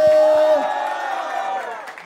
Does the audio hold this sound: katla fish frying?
no